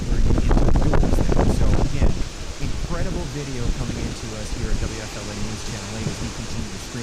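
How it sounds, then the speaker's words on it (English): Strong Hurricane Milton wind gusts with heavy rain roar loudly in a dense, unbroken rush for about two seconds, then ease to a steadier windy wash while a person talks over it. "These wind gusts, incredible on the backside of the storm with the heavy rainfall"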